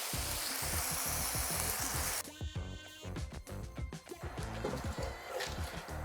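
Bacon frying in a pan with olive oil, its fat rendering out: a steady, dense sizzle that crackles loudly and continuously, with sharper pops and spits breaking through later.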